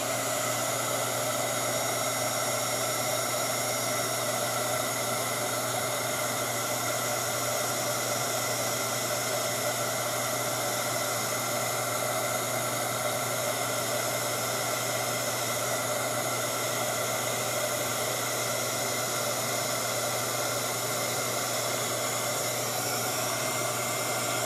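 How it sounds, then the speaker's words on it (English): A heat tool blows air steadily to dry a watercolor beach postcard painting, a loud, continuous broadband whoosh with a faint hum, holding unchanged throughout with no talking. "more heat to dry it"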